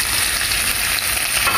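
Calabresa sausage added to browned bacon in a pan for caldo verde, frying with a dense, loud, continuous sizzle close up, with no talking.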